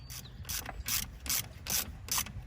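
Ratchet wrench tightening a nut during clutch master and slave cylinder replacement on a Lada Niva: six close, rhythmic bursts of rapid clicking, evenly spaced, with no talk.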